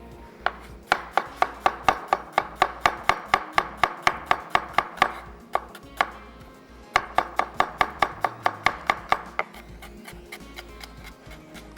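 An onion chopped with a knife; rapid, evenly spaced knocks come close and crisp in two long runs with a brief pause between them, and no one speaks.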